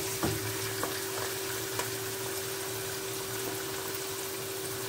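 Onions fry in a pan for a Nigerian stew, giving a steady close sizzling hiss throughout, broken by a few soft clicks from stirring, with no talk.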